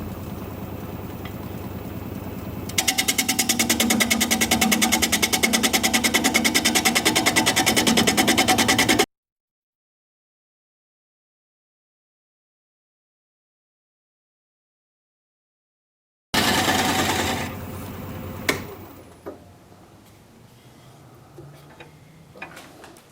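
Spalted sycamore turning on a lathe while the bottom is flattened, a loud steady whirring with dense chattering ticks from the tool, broken by a stretch of silence before resuming and then winding down.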